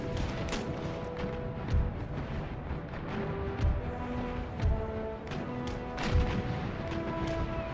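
Army musket volleys ring out on command in Empire: Total War, with repeated booming discharges roughly every two seconds over a dense crackle of scattered shots and battlefield din.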